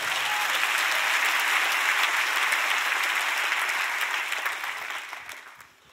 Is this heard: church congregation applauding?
yes